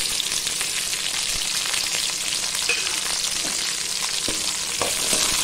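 Garlic sautéing in a pan with shallots, a close, continuous frying crackle with scattered pops and spoon scrapes as it is stirred, no voices.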